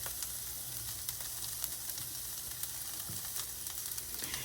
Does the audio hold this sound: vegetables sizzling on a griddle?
yes